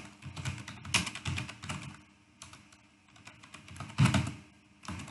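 Close computer keyboard typing while coding, uneven bursts of key clacks with brief pauses and a few heavier thumps of larger keys.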